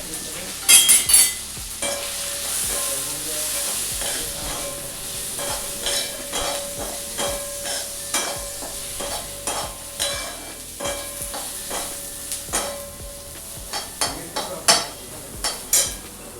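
Coriander, curry leaves and grated coconut dry-roasting in a pan for drumstick bhaji, with a soft background sizzle under repeated rhythmic scraping stirs of a spatula against metal, close and steady, no voices.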